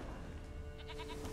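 A goat bleating in The Witcher 3, a short series of wavering, nasal bleats over steady ambient game background, fairly faint and with no talk.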